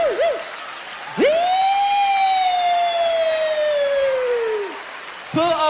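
A comedian on stage mimics a police siren with his voice, a long rising-then-falling wail held for several seconds after a short warble, loud and clear, with another vocal whoop starting at the end.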